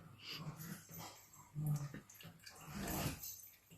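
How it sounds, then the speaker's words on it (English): Dogs roughhousing indoors in a living room: scuffling, panting and short whimpery vocal bursts come close and moderately loud over about four seconds, with a louder flurry near the middle and another toward the end. "The dogs are roughhousing in the living room."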